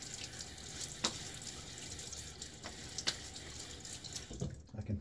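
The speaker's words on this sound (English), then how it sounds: "Now more water on my face." Water splashed onto a face during a wet shave, a few distinct splashes over running tap water in a sink, close and fairly quiet.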